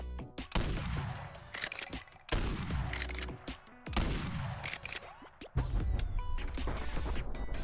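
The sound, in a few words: Jack Warden akimbo gun firing in Bonelab video game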